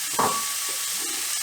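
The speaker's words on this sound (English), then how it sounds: "I'm going to put the beef into the pan now" Minced beef hits a hot pan and fries at once, setting off a bright, steady hiss and sizzle close by, with a brief louder spatter right at the start. No one speaks.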